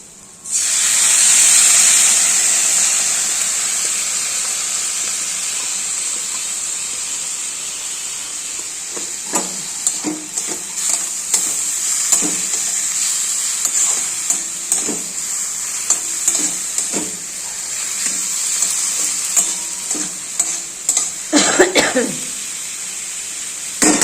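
Ground ginger-cumin paste hitting hot oil in a pan for moong dal with ridge gourd, opening with a loud hissing burst that settles into a steady sizzle, then bursts of stirring and scraping, close and continuous.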